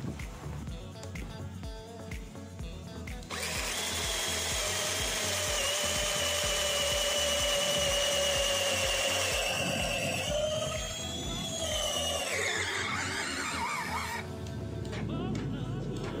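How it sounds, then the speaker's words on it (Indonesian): A Worksite CD331 20V cordless drill with a 10 mm bit bores into mahogany wood, a steady loud whine that rises and shifts pitch as it bites in, then winds down near the end, heard close and alone. "Selanjutnya saya menggunakan mata bor ukuran 10 mm, ukuran maksimal ya."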